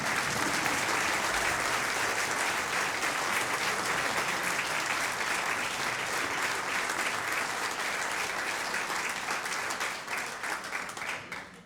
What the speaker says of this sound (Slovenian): Mislim, da si še zaslužil en aplavz, kaj pravite.